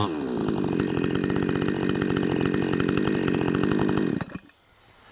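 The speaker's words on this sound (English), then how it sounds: "Let's start the saw." A chainsaw roars loud and steady at close range for about four seconds, then its engine cuts out abruptly into near silence.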